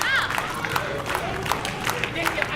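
Wrestling crowd at a BDW Takedown show cheering and clapping steadily as a wrestler rallies them, a dense wash of applause and shouts with a commentator talking over it.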